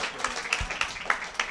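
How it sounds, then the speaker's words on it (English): An audience claps for a family at a talk, producing a short patter of scattered hand claps at moderate distance, light and uneven. "let's give them all a big round of applause"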